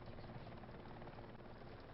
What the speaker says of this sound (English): There's a helicopter just arrived right now.